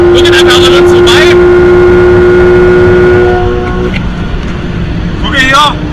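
A Porsche at a drag racing event, its engine droning loudly and accelerating, with another car whooshing past near the end.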